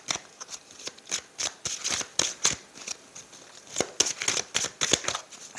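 Tarot cards being shuffled and drawn from the deck, a quick run of close, crisp riffling and slapping flutters in uneven bursts, fairly soft and without speech.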